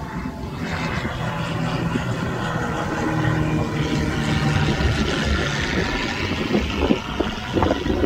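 Steady broadband engine roar of a plane passing overhead above a lakeside beach at Maplewood State Park, Minnesota, loud and sustained, swelling slightly as it nears.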